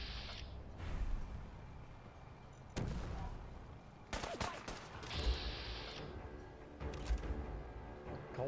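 Cannons boom repeatedly in Fallout 4 Far Harbor, several heavy blasts with sharp cracks and rumbling tails spaced a second or so apart amid foggy game ambience, loud and close.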